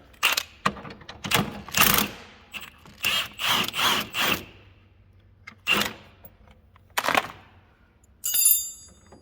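A ratchet wrench turns a 13 mm bolt on a turbocharged Viper, giving close, loud bursts of rapid clicking separated by short pauses.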